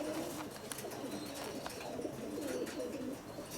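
A male racing pigeon, a marathon race runner-up, coos softly in a loft, with low repeated throaty calls under faint background chirps and room noise, no one speaking.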